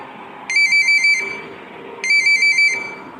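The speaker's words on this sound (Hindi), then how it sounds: "तभी उस शांति को भंग करते हुए पुष्कर का फोन बजा" A phone ringtone plays two bursts of a bright, pulsing electronic tone, close and loud, separated by a short pause over faint background.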